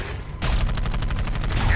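Rapid automatic gunfire rattles in a fast, even burst during combat in the video game Dark Void, loud and continuous after a brief quieter lead-in.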